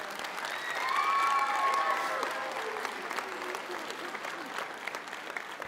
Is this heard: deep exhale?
no